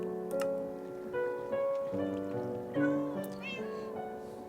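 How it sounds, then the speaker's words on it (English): Several cats meow repeatedly in Minecraft, clear mews rising over a steady bed of game music and background tones, with short gaps between calls. "Yes, yes, you can hear kitty cats."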